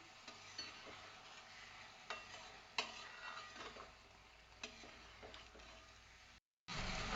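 A spoon stirs a Kerala-style chicken roast in a bronze urali pot, giving a series of scraping clinks against the metal over a soft, continuous sizzle, with a brief cut to silence near the end.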